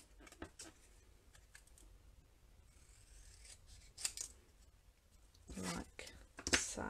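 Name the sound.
scissors cutting gold embossed paper sentiment into a banner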